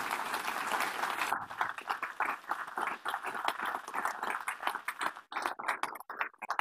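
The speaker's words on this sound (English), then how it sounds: "You got a big applause of roughly 100 people." Applause from roughly 100 people at an innovation gala, dense clapping that starts full, then thins into scattered individual claps near the end.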